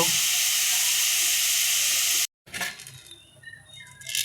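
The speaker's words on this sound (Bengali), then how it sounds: "পেঁয়াজটা আমি ব্রেস্তা করার জন্য পেঁয়াজটা দিয়ে দিলাম।" Onions fried in hot oil for beresta give a loud, steady hiss that breaks off abruptly, then a quieter, uneven sizzle returns with faint clinks of utensils.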